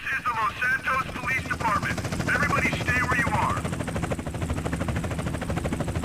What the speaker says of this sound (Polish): Helikopter w ogóle.